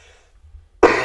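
A single sharp cough bursts out near the end after a near-silent stretch, close and loud, from a man with a slight cough and trouble breathing.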